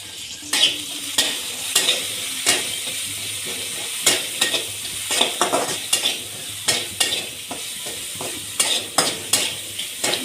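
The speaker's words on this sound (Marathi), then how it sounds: "जिरं टाकून घेते याच्यात पहिले तर दुसरा लसूण तिसरी हिरवी मिरची" Cumin, garlic and green chili sizzling in hot oil in a pan, a continuous frying hiss broken by repeated sharp scrapes and clinks of a spoon stirring at an uneven rhythm, close and loud.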